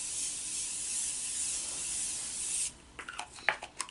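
Morphe Continuous Mist setting spray releases a long, even, close-up hiss that cuts off abruptly, followed by a few light clicks and taps of handling.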